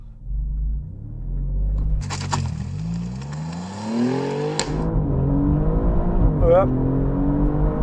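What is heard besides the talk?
Alfa Romeo Giulia GTAm launching, tyres struggling for grip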